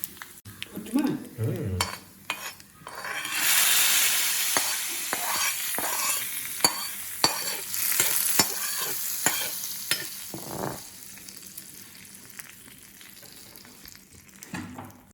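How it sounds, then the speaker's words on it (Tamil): Hot tempering with curry leaves poured from a small pan into raw tomato kootu, with a burst of sizzle followed by stirring, spoon scrapes and utensil clinks close by, with no talk. "இதை தூக்கி இந்த தக்காளி காய் கூட்டில் கொட்டணும்"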